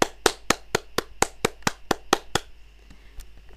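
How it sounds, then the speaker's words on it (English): Hands clap about ten times in a quick, steady rhythm, sharp and close. The claps then stop, and one faint clap follows. "Did you hear that clap?"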